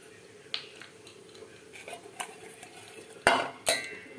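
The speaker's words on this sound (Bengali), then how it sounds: "মাখিয়ে নেবো ডিম নুন তেল দিয়ে দেবো" Peeled boiled eggs being mixed with turmeric and salt in a bowl, sparse clinks and scrapes of utensil against dish, a few sharper knocks near the end, no talking.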